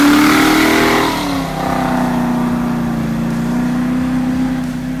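A 1975 Pontiac Firebird restomod with a 455 stroker V8 pulls hard under full throttle, its loud rumbling exhaust climbing, briefly dipping at a shift, then droning steadily onward, close and without talk.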